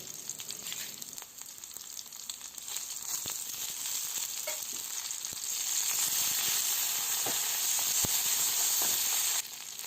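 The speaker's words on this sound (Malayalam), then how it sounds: "നമുക്ക് കടുക് വറുത്ത് കറിയിലോട്ടങ്ങ് ഒഴിച്ചു കൊടുക്കാം" Mustard seeds fried in oil as a tempering are poured into a Kerala-style raw mango curry, giving a loud, steady sizzle and hiss that swells slightly toward the end, with no talking.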